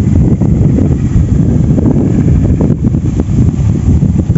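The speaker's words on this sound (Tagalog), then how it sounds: "So malakas yung hangin." Strong wind at a carp fishing spot buffets the microphone in a constant, loud low roar that never lets up.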